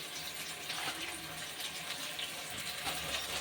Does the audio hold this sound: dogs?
no